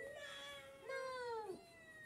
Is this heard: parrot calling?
no